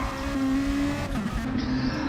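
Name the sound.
race car engine revving in a racing video game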